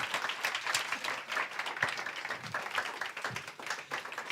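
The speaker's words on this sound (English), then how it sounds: "Big applause." Audience applause at a closing event: steady, fairly distant clapping from a crowd that fills the whole stretch at an even level.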